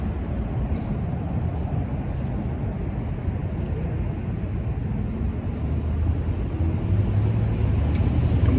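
Steady low rumble of street traffic with cars driving by, a continuous distant wash of road noise with no distinct horns or voices standing out.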